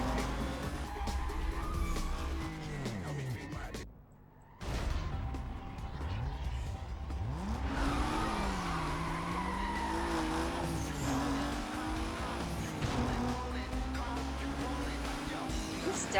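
Engine roar and screeching tire skids from a race in Need for Speed: Most Wanted on PS2, loud and continuous, with a brief dropout near four seconds and sweeping pitch glides as the car slides through turns.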